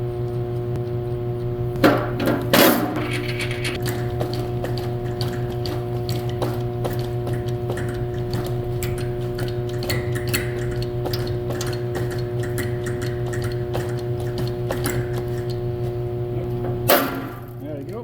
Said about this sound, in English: Now I'm going to punch a 1-inch hole